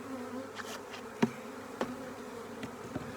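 A swarm of honeybees buzzes in a continuous low hum close by as they are shaken off into a new hive box, punctuated by a few soft knocks and taps.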